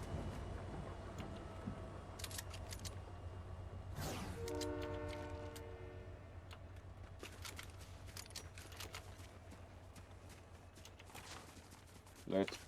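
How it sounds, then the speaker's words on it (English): A train in the Fortnite video game rolls along with a steady low rumble, and a horn blast sounds partway through. Sharp clicks and game effects punctuate the run, with talk heard in places. "Alright, now the train actually goes into the storm,"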